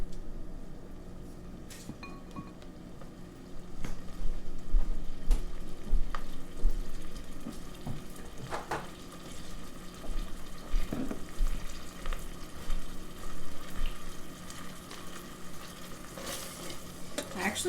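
Onion sautés and simmers in butter for a chicken pot pie, making a soft, continuous sizzle with occasional faint clinks and stirring sounds, close and fairly quiet, with no voices.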